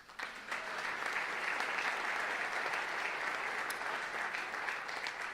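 An audience at an international folk music awards ceremony breaks into sustained applause, a dense, even wash of clapping that starts abruptly and carries on loudly to the end.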